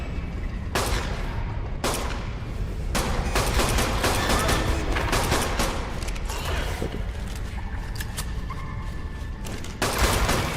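Gunfire from an old gun in a video game set in a lava cave: a dense, continuous barrage of loud shots with rapid bursts and heavier booms, running throughout with no pauses.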